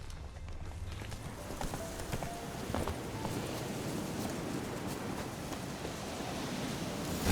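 Horse hooves clip-clopping in the video game Witcher 3, faint, soft repeated hoof beats at a quick gait over a steady wash of ambient background noise.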